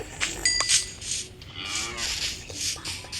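A cow moos in the video game Minecraft, a short game-sound moo heard alone among soft clinks and background noise.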